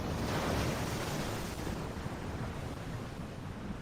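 A toilet flushes behind a closed door, a dense, continuous rushing of water that stays loud and steady throughout, slightly muffled.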